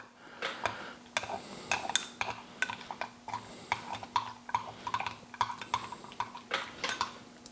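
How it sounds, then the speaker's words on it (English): A spoon stirs Russian emergency ration food rehydrated with water in a container, giving a steady series of close metallic clinks and scrapes throughout, with no talking. "Let's give that the old stir here."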